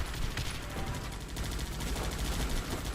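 Gunfire from sniper towers in the battle strategy game Guns Up!, a dense stream of overlapping shots crackling steadily over a constant rumble of battle, fairly loud and continuous with no talk.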